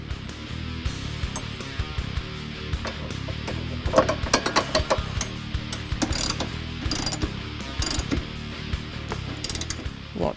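Ratchet wrench clicking in quick bursts and longer runs while tightening the rear lower control arm bolt on a 2005–2014 Mustang, close and clear with metallic knocks between strokes.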